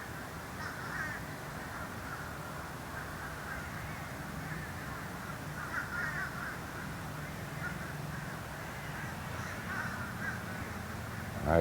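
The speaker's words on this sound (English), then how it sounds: "crows just flying everywhere, just like Hitchcock's The Birds" Crows cawing in a tree, a steady chorus of harsh caws repeating throughout over constant outdoor background noise, moderately loud and continuous.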